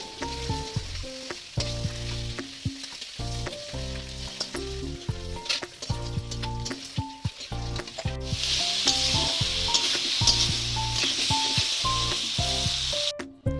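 Eggs fry in a pan with a continuous crackling sizzle, close and fairly loud, joined by intermittent stirring and scraping sounds and a brighter hiss building in the second half.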